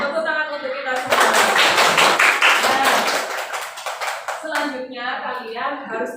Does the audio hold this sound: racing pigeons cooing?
no